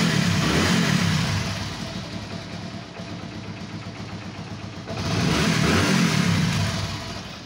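A motorcycle engine with a faulty, shorted spark plug runs steadily nearby, its low rumble swelling louder, easing back, then rising again toward the end.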